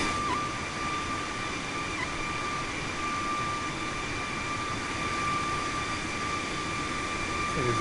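A steady airliner engine drone in Microsoft Flight Simulator, a constant whooshing jet roar with a thin high whine, moderately quiet and unbroken with no talk.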